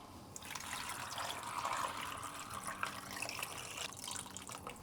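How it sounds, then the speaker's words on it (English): Water pours from a tap into a cooking pot that holds carrots and other vegetables, a continuous trickling and splashing that swells and eases, heard close with no talk. "put the water in it"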